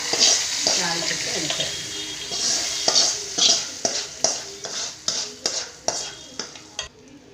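Hot oil sizzles as tempering hits a pachadi, followed by a series of rhythmic stirring scrapes, close and moderately loud.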